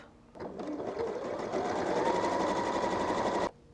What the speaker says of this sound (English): When you put the fabric in the machine, because of the way that the cam is working with the stitches, it's bringing your fabric backwards and forwards